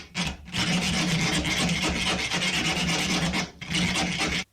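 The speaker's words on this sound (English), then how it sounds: "We can now continue filing out the inside." A hand file rasping inside a ring cut from a stainless-steel nut, in long, steady, close strokes with short pauses between passes.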